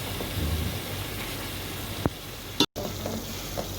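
Chicken being mixed in a hot sizzling pan, with steady frying hiss throughout and a few sharp scrapes and clinks from the utensil against the pan, close by and without talk.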